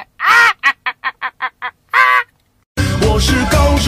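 Several people imitate a chicken together, with one long squawk, a quick run of short rhythmic clucks and another long call, all vocal, followed after a pause by loud music.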